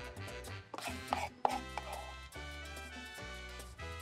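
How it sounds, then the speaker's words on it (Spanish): Wide-leaf cilantro is finely chopped with a knife on a board, producing a quick run of close, crisp thudding cuts in uneven rhythm, with no speech. "Le quitamos la parte de la raíz y picamos finamente."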